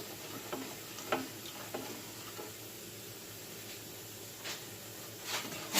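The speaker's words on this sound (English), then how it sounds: "we're going to stir this up" A popcorn ball mixture of nut butter and butter being stirred in a pot over slightly above medium heat, giving faint scraping ticks and a soft steady sizzle, close and quiet, with no talking.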